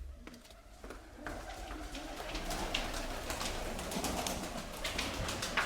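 Pigeons coo softly in a loft or coop, a faint low burbling under rustling and fluttering, with occasional sharper bird sounds rising as the clip goes on.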